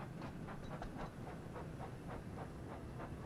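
A train engine moving in the Wonders of Sodor video game, a steady chugging rumble with a rhythmic clickety-clack and a hiss of steam at a moderate, even pace.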